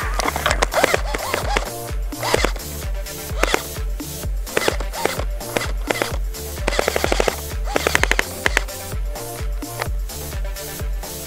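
Airsoft guns fire during an urban combat game, with rapid bursts of clicking shots repeating in quick clusters throughout, fairly close and loud, over a busy background of mechanical rattle.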